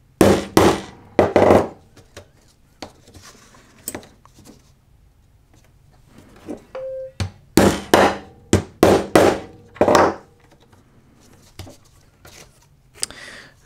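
A hammer drives a metal punch through leather for a bullwhip holster: loud, sharp strikes come in quick clusters of two to four, separated by quiet pauses, heard up close with no talking.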